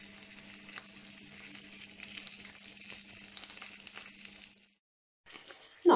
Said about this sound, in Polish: masełko nam fajnie skwierczy, rozpuściło się